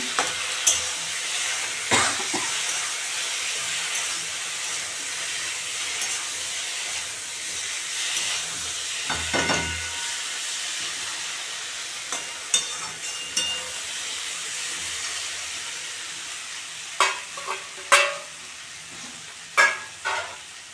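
Fried pointed gourd stirred into a pan for lentil curry gives a steady close sizzle and hiss, with scattered scrapes and clacks of the spoon against the pan throughout.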